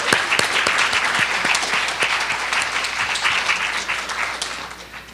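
Sustained audience applause in an auditorium after a lecture, dense steady clapping from a large crowd that stays loud and slowly tapers toward the end.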